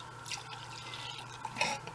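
Fluid drained from a Polaris Ranger 800XP trickles and drips into a glass close by: faint, irregular splashes and pours that grow a little louder toward the end.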